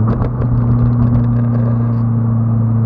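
Engine of a 2014 Scion tC2 driving, a steady low droning hum with a strong tonal rumble, heard close and continuous with no talking.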